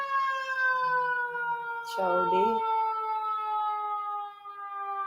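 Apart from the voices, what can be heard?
emergency vehicle sirens passing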